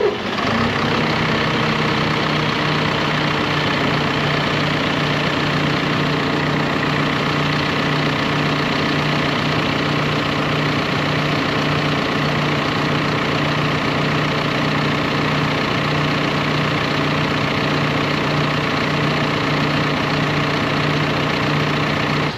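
A John Deere 6120M tractor engine idles steadily at close range, a constant low diesel drone with a faint higher whine from the alternator, running alone without any talk.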